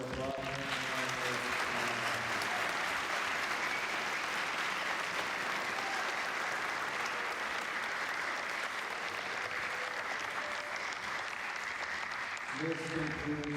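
A ceremony audience applauds at an academic recognition, ring ceremony and pep rally, sustained dense clapping lasting well over ten seconds, with a voice speaking briefly at the start and again as it ends.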